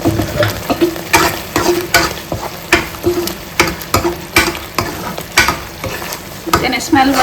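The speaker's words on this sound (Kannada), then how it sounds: "ನಾನು ಕ್ರ್ಯಾಬ್ ಪಾಡಿದ ಚೂರು ಮಸಾಲೆ ಒಟ್ಟಿಗೆ ಫ್ರೈ ಆವಾಡೊಂದು" Crab pieces fry with masala for a crab ghee roast, giving a steady close sizzle broken by regular scraping stir strokes roughly every half second, with no talking.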